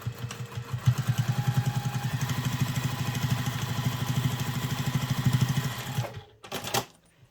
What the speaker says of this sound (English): Right, so I'm just going to sew through here.